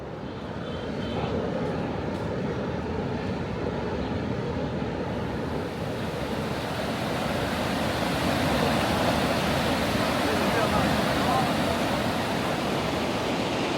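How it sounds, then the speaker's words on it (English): A steady, broadband roar of a waterfall in a park in Chengdu, China fills the scene continuously, loud and close, with no voices. "That is a pretty cool waterfall right here."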